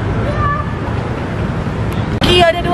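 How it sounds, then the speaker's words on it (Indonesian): Cats meow outdoors while being fed, short high cries sounding over a steady background rumble. A sharper, closer meow comes near the end, and people talk nearby. "Lucky, ada 2 kucing Lucky."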